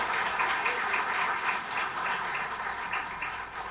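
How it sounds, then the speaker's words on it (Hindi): An audience at a ghazal night concert claps in sustained applause, a dense, fairly loud wash of many hands that holds steady and tapers slightly toward the end. "मैं चाहूंगा कि आप सब अपने आप के लिए तालियां बजाएं"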